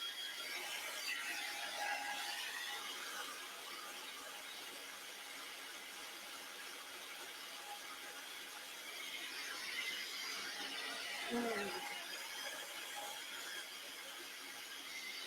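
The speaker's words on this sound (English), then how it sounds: "Terribly noisy hairdryer, that is." A steady, whooshing hairdryer roar runs throughout at low level, an even broadband blow that swells slightly at the start and again near the end.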